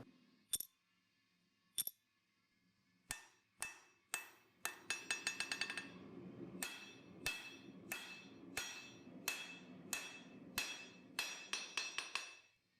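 Sharp metallic hammer blows ring out on copper being forged for a sword, first single strikes with long gaps, then a quick burst of rapid taps, then steady spaced blows, each clang bright and close with a short ringing decay.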